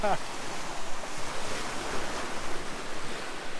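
The incoming tide sends waves washing against a groyne on the Northumberland coast at Amble, producing a steady broad rush of surf mixed with wind, continuous and moderately loud, with no clear voices.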